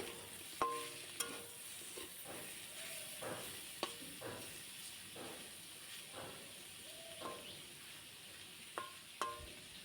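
Food frying in a pan with a little turmeric gives a soft, steady sizzle and hiss, broken by occasional clinks of stirring, with no one talking.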